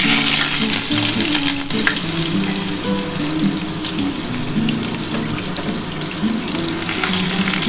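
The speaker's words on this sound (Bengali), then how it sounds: "দেখো আমার কিন্তু তেলটা গরম হয়ে গেছে আমি প্রথমে এই যে পেঁয়াজটা দিয়ে দিলাম" Sliced onion hisses loudly in hot oil for chicken kosha, a dense continuous sizzle with a low hum beneath and no talking throughout.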